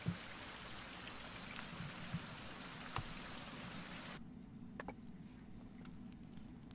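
Steady rain hisses and patters in a survival video game, a dense, even wash of drops with a few louder single taps, then cuts suddenly to a quieter backdrop partway through, with no voices.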